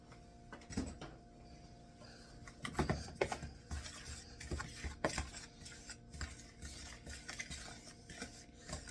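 Salt being stirred into tibs in a bowl, producing soft scraping and clinking of a utensil against the bowl in irregular bursts, close and fairly quiet.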